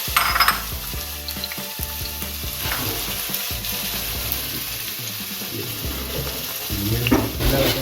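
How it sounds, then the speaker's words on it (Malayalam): Chopped shallots fry in hot coconut oil for a beef vindaloo, producing a loud, steady crackling sizzle that swells slightly near the end. "അരിഞ്ഞു വെച്ചിരിക്കുന്ന ചെറിയുള്ളി ഇടുക."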